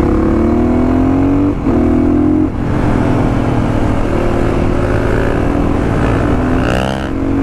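Yamaha WR supermoto motorcycle engine revving hard and close, pitch climbing and dipping with throttle blips across repeated rising sweeps, loud and steady with no talking.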